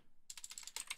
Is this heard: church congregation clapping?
no